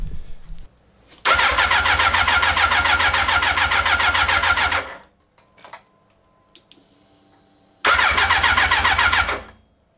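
A turbocharged Hayabusa engine rated around 400 horsepower fires up for the first time: a loud burst of cranking and running for about three and a half seconds, a quiet gap with small clicks, then a second shorter burst.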